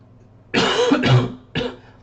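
Two sharp coughs from one person, the first a longer, rough double burst and the second a short single hack a moment later, close and loud against near silence.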